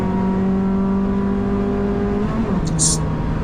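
Citroën DS3 Cup race car engine at Oulton Park circuit, heard from inside as a loud, steady onboard drone with a pitch drop on a downshift, while someone talks over it.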